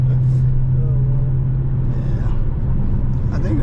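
Loud, steady engine rumble from a Dodge Challenger Hellcat during a night drive, heard from inside the car with a constant low drone, and voices talking over it.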